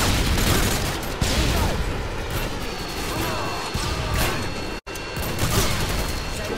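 Gunfire in Call of Duty: Modern Warfare 2 during a Ground War match on the Sub Base map, with dense, loud bursts and clattering impacts under constant battle noise and a brief dropout near the end.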